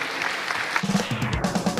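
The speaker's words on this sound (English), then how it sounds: "let's enter off of the stage with big round of applause." Conference audience at a web accessibility talk applauding a speaker as she leaves the stage, a short burst of dense clapping with a few voices mixed in toward the end.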